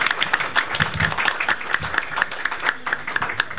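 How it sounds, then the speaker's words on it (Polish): An audience applauding a short-film crew after a screening, with a steady patter of many hands clapping at an even level throughout. "Brawa, możemy pozwolić sobie na brawa."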